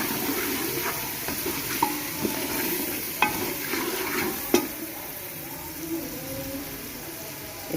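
Spices, ajwain among them, fry and sizzle in a pan for kadhi pakora, with continuous crackle and occasional scraping stirs and light clinks close by.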